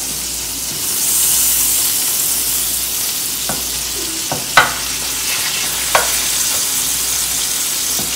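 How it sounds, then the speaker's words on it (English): Raw ground meat seasoned with salt and pepper sizzles steadily in a frying pan while a utensil breaks it up, with a few sharp scraping clicks against the pan. "I'm just going to break it up and grind it up."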